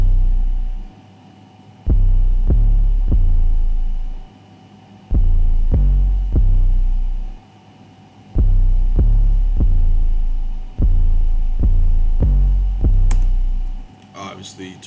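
Deep 808 bass in a beat, booming notes hitting in a bouncy repeating pattern with brief pauses between bursts, loud and close over a faint hum.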